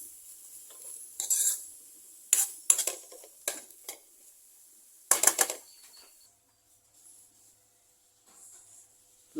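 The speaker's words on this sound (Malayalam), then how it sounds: "നമുക്കതൊരു പാത്രത്തിലേക്ക് മാറ്റാം" Bamboo shoot thoran stir fry is scooped from a pan into a serving dish, with several sharp clinks and scrapes of a spoon against metal coming in bursts and then falling quiet.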